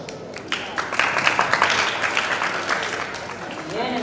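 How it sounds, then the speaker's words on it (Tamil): Applause from an audience at a graduation ceremony of a Vedic and Shaivagama school, hosting an atheism-versus-theism debate; dense clapping swells after half a second and carries steadily to the end, with voices mixed in. "மறுபடியும் கரகோஷம்."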